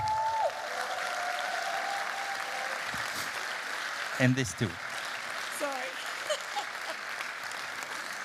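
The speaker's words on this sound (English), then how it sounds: "I would like you to make a big applause" An audience applauds at an award ceremony, with sustained, even clapping throughout and a voice speaking briefly over it.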